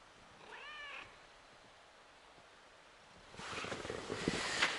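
A cat gives a single short meow near the start, followed by quiet, then rustling noise toward the end.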